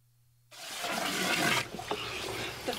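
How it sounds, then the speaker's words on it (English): Water runs into a horse's water container, a steady rushing, splashing flow that starts abruptly after a moment of near silence and continues loudly to the end. "So here I'm filling up Raina's water"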